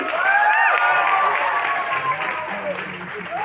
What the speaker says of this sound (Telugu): ఒక్కసారి ఎగ్జైట్మెంట్ క్లాప్స్ ఇవ్వండి